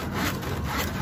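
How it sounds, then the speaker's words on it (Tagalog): A dull handsaw cutting through leftover burnt wood, with steady, continuous rasping strokes close by and no talking. "tuloy-tuloy ng paglagari guys. Medyo mapurol na yung ating lagari"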